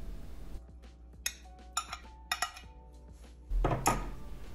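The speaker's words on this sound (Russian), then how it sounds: "Хорошо перемешиваем." A utensil stirs grated cheese into a batter made with mustard, scraping and clinking against the bowl in a few sharp taps, then a louder burst of mixing at the end.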